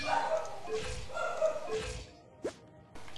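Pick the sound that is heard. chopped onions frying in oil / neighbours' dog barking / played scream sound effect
neighbours' dog barking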